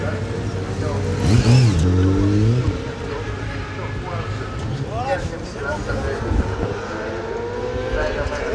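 600cc race motorcycles at the start of a Promosport race at Circuit Carole rev and accelerate with rising and falling engine whines, loud and close at first, then fading, while a voice talks over them.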